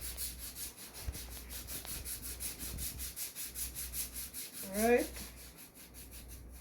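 A fine-grade foot file rubs back and forth over the skin of a foot during a home pedicure, a soft, steady rhythmic scraping with regular strokes, joined by a brief spoken word near the end.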